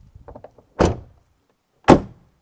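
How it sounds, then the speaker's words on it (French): A Renault 19 car door, fully padded, shuts twice with solid, deep thuds about a second apart, close by, after some faint light handling noises. "j'aimerais attirer votre attention sur la porte et faire une comparaison avec celle de la Kadett au niveau du bruit."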